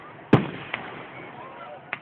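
Fireworks bursting during an outdoor display: one loud, sharp boom followed by two fainter pops spread across a couple of seconds, set against a steady background hiss.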